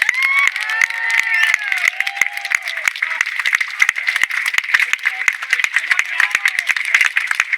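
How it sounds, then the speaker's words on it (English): Audience at a Manchester rally against grooming gangs breaks into applause with cheering, dense crackling claps close by, voices rising over the sustained ovation. "Please give an absolute legend, an absolute round of applause."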